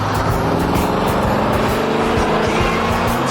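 Maserati Bora with a race-derived mid-mounted 4.7-litre V8 giving a steady, deep, loud rumble close by, with a brief tyre-like edge and no talking.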